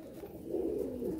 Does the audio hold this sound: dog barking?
no